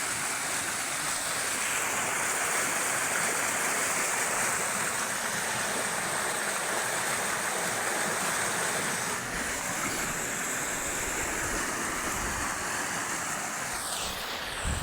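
Water flows over the head of a village canal, where the structure holds back the flow and throws it forward, making a steady, loud, broadband rushing roar that stays constant throughout with no voices.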